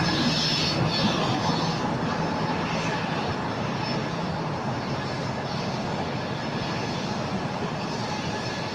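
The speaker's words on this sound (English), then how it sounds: "Another heavy flying over our heads here at the In-N-Out Burger location." Heavy jet airliner, a Boeing 777, passing low overhead near LAX beside an In-N-Out Burger, a loud continuous broadband engine roar that stays steady and close throughout.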